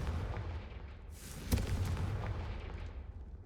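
The Confringo blasting spell fires in Hogwarts Legacy as a single sharp burst over a low, steady rumble, followed by a fading hiss.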